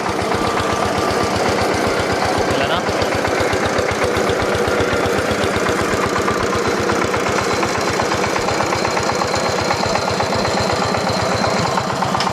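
A loud, steady engine chugs with a rapid rhythmic knocking as a drilling rig bores a water well, heavy machinery running continuously at close range.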